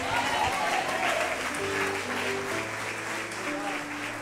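A church congregation claps in praise to God during a service, a steady dense patter that runs throughout, with sustained musical tones underneath.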